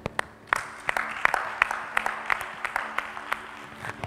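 A church congregation claps during worship, a string of sharp, uneven claps rising over a murmuring crowd and faint room noise, moderately near.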